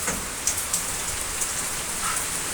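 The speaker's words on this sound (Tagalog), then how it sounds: "lakas ng ulan po dito sa amin" Heavy rain pours down outside in a steady, dense hiss with occasional louder drops and splashes, continuous throughout with no voices.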